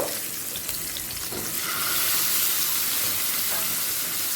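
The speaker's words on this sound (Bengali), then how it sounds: "সর্ষের তেলে একে একে মাছগুলোকে ভেজে নেব" Fish pieces rubbed with salt and turmeric fry in mustard oil, giving a loud, steady hiss and spatter close by that grows fuller after the first couple of seconds, with occasional light clinks and no talking.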